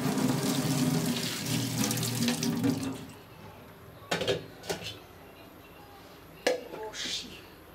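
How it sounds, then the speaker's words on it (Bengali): A sieve is rinsed under a running kitchen tap, a steady splash of water lasting a few seconds before it shuts off, followed by a handful of sharp clanks and knocks. "চালনিটা একটু ধুয়ে নিই।"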